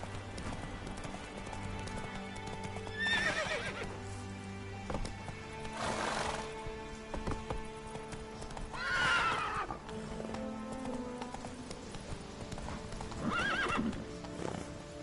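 Roach the horse in The Witcher 3 gallops with steady clip-clopping hooves while neighing and whinnying several times, the calls loud and near over continuous game ambience.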